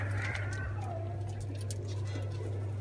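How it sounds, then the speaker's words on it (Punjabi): Malwai pigeons in a backyard loft in Ludhiana give soft, faint coos over a constant low electrical hum. "ਆਹ ਸਰਾਜੂ ਕਬੂਤਰ ਹੈ ਆਹ ਡੱਬੀ ਕਬੂਤਰੀ ਹੈ"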